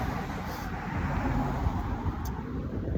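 Traffic on a fairly busy street, Leake St in Bayswater, makes a steady, even roar of passing cars, heard close and continuous with no speech over it.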